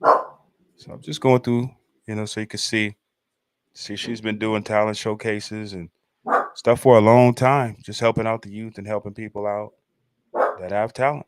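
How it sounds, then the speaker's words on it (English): A pet dog barks in bursts at the start and end of the stretch while a person talks steadily over it, the yaps fairly close but mostly buried under the speech. "Dog is going crazy."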